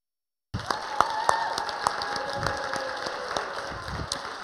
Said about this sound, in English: I just want to ask you to give another round of applause for all of our